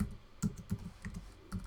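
Typing on a computer keyboard, a quiet, close run of uneven key clicks and taps with short pauses between strokes, no voices.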